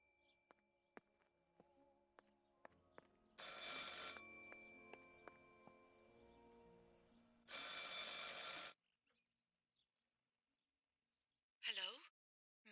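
A telephone rings in the video game Martha is Dead. There are two long bursts of ringing, then a shorter one after a pause, over faint ticking and other quiet background sounds.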